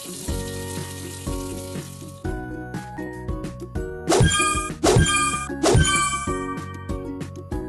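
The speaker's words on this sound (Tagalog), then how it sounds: "Isara ang gripo." Water from a faucet runs and is shut off in a children's game. Bright chimes and a short musical sting are mixed in with a few louder splashy bursts toward the end.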